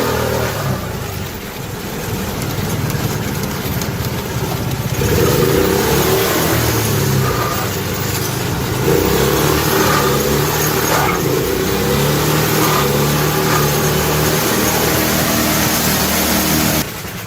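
A snowmobile engine swapped into a golf cart runs steadily and loud up close, a mid-pitched motor drone with rising and falling revs and a faint belt whine throughout, no talking.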